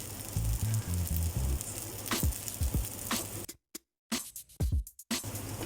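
Aloo tikki potato patties frying in a pan, a busy close sizzle with utensil clatter as they are turned, a brief quiet gap and then the hiss returning, no talk.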